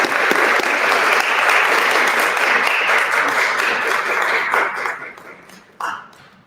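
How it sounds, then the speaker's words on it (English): An audience at a cannabis social equity event gives a speaker a warm round of applause, many hands clapping steadily before the sound thins out and trails off in the final seconds. "Giving me a round of applause for all that she has done"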